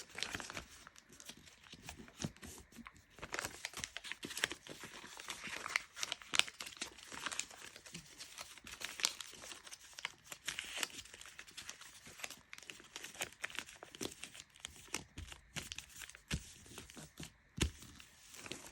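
Paper is folded by hand into an origami crane with a petal fold. Soft, continuous crinkling and rustling sounds close but faint throughout, with no speech.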